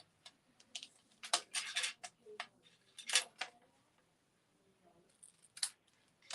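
Scissors snip the ribbon ends for a handmade card in a quick run of close, crisp cuts, then a pause and a few more isolated snips.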